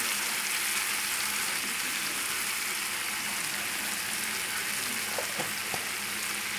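Veal and mushrooms in a pan with a Marsala and cream reduction, giving off a steady close sizzle and bubbling hiss throughout, with a few faint clinks near the end.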